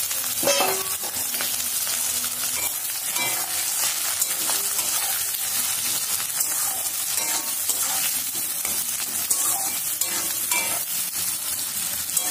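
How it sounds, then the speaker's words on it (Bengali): Onions frying in a pan during home cooking, a continuous close sizzle with repeated scraping and stirring strokes throughout, with no talking. "পেঁয়াজটা ভাজা ভাজা হয়ে গেছে"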